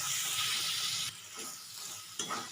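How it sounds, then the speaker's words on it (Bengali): Masala for chicken korma frying in oil with ground cashew paste, a bright hiss that drops off after a second, followed by soft scraping stirs and another brief sizzle. "অনবরত নাড়তে হবে।"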